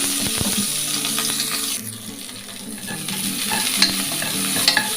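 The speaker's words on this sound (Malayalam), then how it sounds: "ഉലുവ ഒന്ന് നന്നായി പൊട്ടി വരണം" Fenugreek seeds, curry leaves and shallots fry in hot oil in a pan, a steady crackling sizzle with scraping stirs, close up and without talk.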